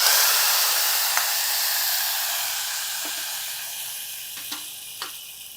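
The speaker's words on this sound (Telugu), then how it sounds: "పోపు వేగిపోయింది. దీన్ని తీసి కూరలో వేసేద్దాం." Steady bright sizzle and hiss of a hot spice tempering with curry leaves poured into curry, with a few faint clinks of a utensil, continuous and close.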